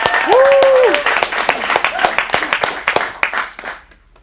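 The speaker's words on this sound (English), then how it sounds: "let's give a big round of applause to Lawrence for his cold read monologue" An audience at an adult acting studio showcase in Phoenix applauds after a cold read monologue, with dense clapping and whoops and cheers on top, before the clapping thins out and fades away.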